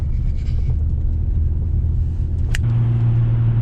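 Car interior on a drive through Twin Cities traffic, a steady low engine and road rumble with wind noise, plus a brief sharp passing sound near the end.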